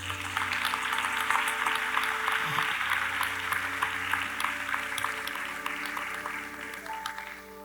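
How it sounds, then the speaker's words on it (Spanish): A church congregation at Iglesia Nueva Jerusalén claps along during a sermon, a continuous wash of applause over sustained music that gradually softens toward the close. "Aplaude a ese Cristo maravilloso"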